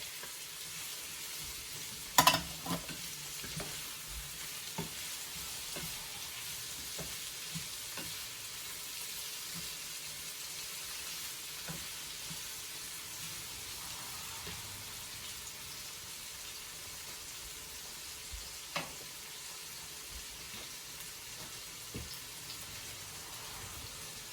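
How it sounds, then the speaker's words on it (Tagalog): Onions and tomato sautéing in a pan for escabeche give a steady, close sizzle across the whole stretch, broken by a few sharp clinks and scrapes of stirring, with no talking. "Medyo palabutin lang natin tong sibuyas niya bago natin ilagay yung kamatis."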